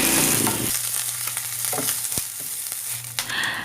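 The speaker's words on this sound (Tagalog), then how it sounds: "When the oil is hot, let's add 1 teaspoon of grated ginger." Grated ginger hits about three tablespoons of hot oil left from frying meatballs, giving a brief loud sizzle and crackle up close that settles into a softer frying hiss.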